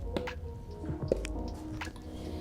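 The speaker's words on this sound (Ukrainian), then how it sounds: "І перемішуємо все ось такими рухами знизу до гори." Wet, squishy folding of a nut-and-flour mixture into whipped meringue for a Kyiv cake, with soft repeated squelches and drips close by as a spatula turns the batter from bottom to top.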